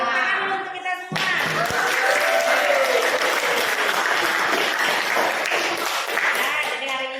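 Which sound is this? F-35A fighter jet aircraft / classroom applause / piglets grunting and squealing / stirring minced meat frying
classroom applause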